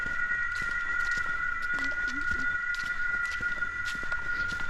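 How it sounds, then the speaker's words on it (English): A grasshopper's steady, high, shrill drone runs unbroken throughout, with faint scattered clicks and footsteps in the background. "That noise is the grasshopper's mating song."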